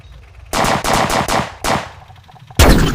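Loud bursts of gunfire from tanks in a tank war video game, several sharp shots in quick succession, a pause, then another heavy blast.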